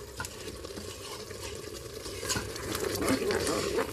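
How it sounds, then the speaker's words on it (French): Bolognese sauce is stirred in a Cookeo multicooker pot, the spoon scraping the bottom in continuous soft rasps over a low bubbling simmer; no one speaks. "Raclez bien le fond."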